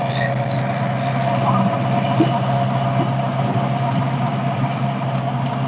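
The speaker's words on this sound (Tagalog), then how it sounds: "Yung pong makina na tilapil maker, yun po ay kinakabit din sa traktora." A tractor fitted with a pilapil ridge maker idles steadily nearby, a constant mid-low engine hum with a humming drone, with a muffled voice faintly underneath.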